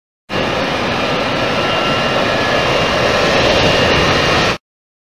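A sprinkler jet engine effect from the Sammy's Science House children's computer game, a loud steady roaring jet whoosh that holds level for about four seconds and then stops abruptly, with no talk over it.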